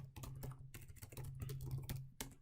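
Steady, fast typing on a computer keyboard close by, a dense run of light key clicks with brief pauses, while a meeting name is entered in Microsoft Teams; no one talks.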